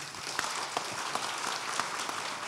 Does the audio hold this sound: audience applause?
yes